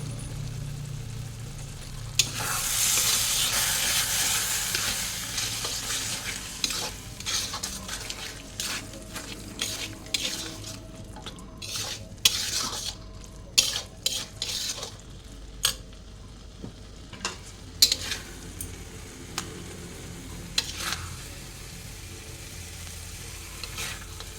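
Curry seasoned with black pepper and garam masala is stirred in a hot pan, a steady sizzle broken by irregular scraping and clinks of the spoon against metal, close and without talk.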